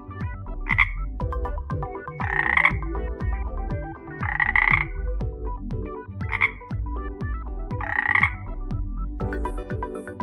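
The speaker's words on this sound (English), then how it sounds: "Frog." Frogs croak repeatedly in short, bright calls, close and clear over a steady rhythmic low backing, with no voices.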